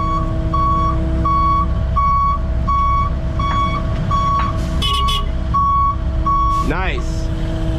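A truck reversing on a remediation job site, giving a regular series of loud high-pitched backup beeps over a heavy engine rumble, with a few brief squeaks and noises near the end.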